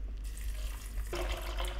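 Water is poured from a teapot into a pot of foraged elderberries for syrup, a steady splashing stream that begins about a second in and runs on, fairly close.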